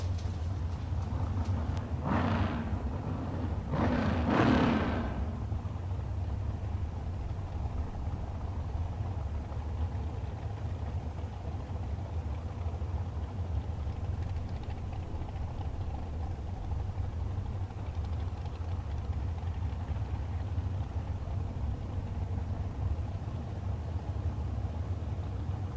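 Drag racing cars idle at the starting line while staging at the K&N Spring Fling Million, making a continuous low engine rumble with two brief revving surges early on, then a steady drone without speech.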